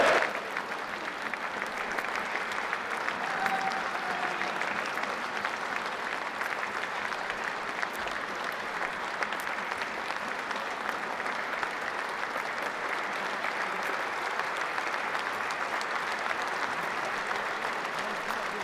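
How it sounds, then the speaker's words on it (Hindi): Sustained loud applause from NDA parliamentary party members at a party meeting in India, a dense steady wash of clapping that fills the whole stretch with no let-up. "तो दोनों हाथ खड़ा करके जोरदार तालियों के साथ हम लोग समर्थन करें।"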